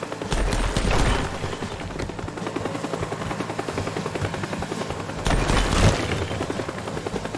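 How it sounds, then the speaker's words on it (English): A loud, continuous helicopter rotor thrum with bursts of gunfire layered over it, close and intense throughout, in the video game Teardown. "that's you in the helicopter"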